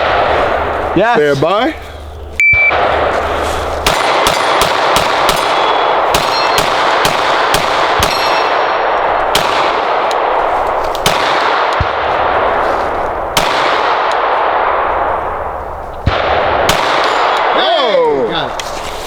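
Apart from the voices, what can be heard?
pistol gunfire at steel targets, Glock 17 and Walther PDP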